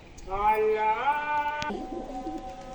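A pigeon gives a single soft, rolling coo close by, rising then settling, followed by a few faint low murmurs.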